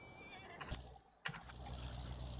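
Horses in the Farming Simulator 19 video game neighing, two short whinnies a moment apart over a faint steady background, with no talk.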